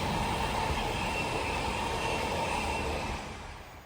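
Leeds to Southampton intermodal freight train passes Doehill near Alfreton, a steady broadband rumble and rail roar that holds then fades toward the end, with no voices.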